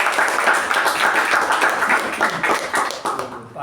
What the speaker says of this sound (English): I think it deserves a round of applause for that.